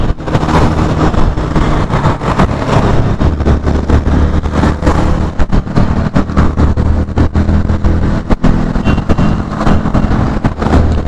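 A Yamaha FZ-V3 motorcycle being ridden through Jaipur city streets, with a loud, continuous engine drone and steady wind rush buffeting the microphone throughout, and no voices.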